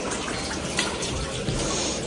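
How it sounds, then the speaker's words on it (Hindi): A squeegee wiper pushes water off a freshly washed carpet, a continuous close wet swishing and trickling wash with no pauses. "और ये मैं इस तरह इसका वाइपर से सारा पानी इस तरह हटा दूंगी।"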